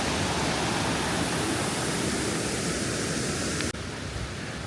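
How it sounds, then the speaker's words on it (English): Steady, dense rushing roar of a waterfall on a foggy fall day in the mountains at Graveyard Fields, loud and constant before cutting abruptly to a quieter wash near the end. "Goodbye, waterfall."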